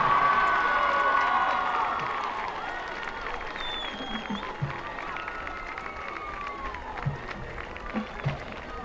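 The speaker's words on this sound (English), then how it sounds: "Let's have a nice round of applause for our 2025 Homecoming King, Julian Pringle" A large crowd at a high school homecoming king announcement cheers and claps in a noisy, echoing space, loud at first then settling into a steady murmur with scattered shouts.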